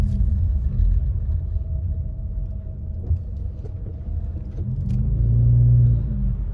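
A car creeping at under 10 mph along a snowy main road in Big Bear Lake, California, during heavy snowfall; a steady low engine and tire rumble close by, swelling into a deeper drone near the end, with no talk.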